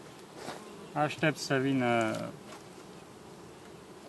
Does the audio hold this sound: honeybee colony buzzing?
yes